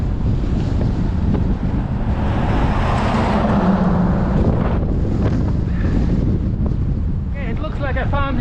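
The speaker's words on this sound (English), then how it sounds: "I've been battling this headwind all day" Heavy headwind roars across the microphone during a solo bike tour near Joyce on the way to Olympic National Park, a loud continuous buffeting rush with no letup.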